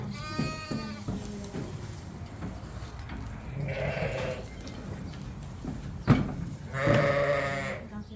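Old ewes on a sheep farm bleat nearby, with a few distinct calls rising over rustling, movement and background farm noise.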